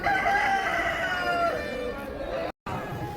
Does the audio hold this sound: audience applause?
no